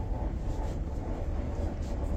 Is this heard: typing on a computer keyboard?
no